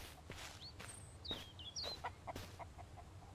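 A chicken in the survival horror video game Mist Survival clucks and chirps in short scattered bursts at moderate distance over a low outdoor hum, with soft footstep-like taps and no talking.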